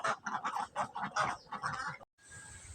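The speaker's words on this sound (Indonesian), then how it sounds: "Nah, yang keempat ada bebek." A duck quacks in a rapid run of about ten loud, close quacks, then stops abruptly before a faint tonal background takes over.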